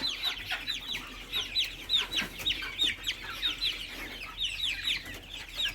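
Several chickens cluck nearby in repeated short bursts, overlapping one another in a busy farmyard chorus.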